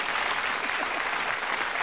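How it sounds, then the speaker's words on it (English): Studio audience applause on a British TV game show, a thick, even wash of clapping from many hands that holds steady throughout. "Give him a nice round of applause."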